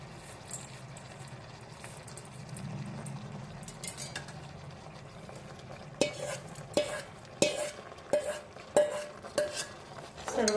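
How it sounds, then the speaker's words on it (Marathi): Rice being stir-fried in a pan for chicken pulao, with a low steady sizzle that gives way to a series of sharp, rhythmic scraping and clanking strokes of a spoon against the pan in the second half. "तांदूळ टाकला आहे त्याला छान असा परतवणार आहे आता"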